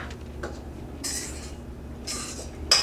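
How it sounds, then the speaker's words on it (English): A spoon stirring a mixture in a bowl, with soft scraping and a few light clinks against the sides, fairly quiet and close, no talking. "You want to just stir and stir and stir."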